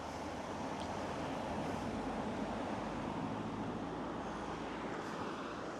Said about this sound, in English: you can see the Hebble Brook coming past